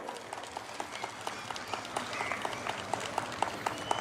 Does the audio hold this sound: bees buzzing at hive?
no